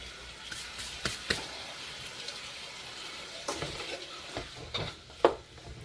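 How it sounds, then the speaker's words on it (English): Pieces of beef for a hearty stew sizzle in a pot over medium-low heat, a soft continuous frying hiss broken by occasional scraping and clinking stirs, fairly close and without talk. "You've got the nice sizzle going on from the meat."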